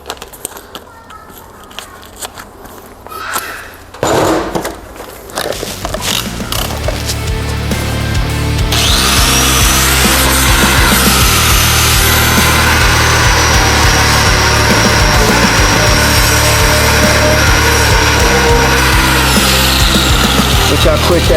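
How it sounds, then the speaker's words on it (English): A power tool with a stripping disc grinds coating off metal on a Datsun mini truck, starting with a brief burst, then ramping up to a loud, steady, continuous abrasive whine that runs to the end. "So we use a stripping disc for that."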